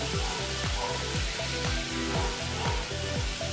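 Ginger, garlic and chilli paste sizzles loudly and steadily in a pan while it cooks for a Bengali pabda fish curry, with a rhythmic pattern of stirring strokes running through it and no talking.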